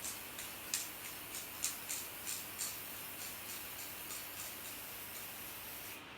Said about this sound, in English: And what I'm going to do is just spray this.